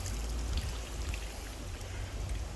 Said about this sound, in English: this extra water is just gonna flow on down there and help water the tomatoes to the sides of it